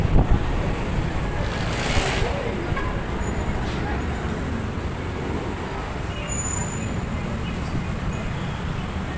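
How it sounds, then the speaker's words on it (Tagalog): Strong wind roars and buffets the microphone in a constant low rumble on an overpass at a crossing in Calamba, with distant traffic noise beneath it. "Lakas ang hangin."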